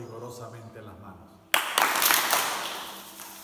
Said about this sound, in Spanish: la vamos a activar frotando vigorosamente las manos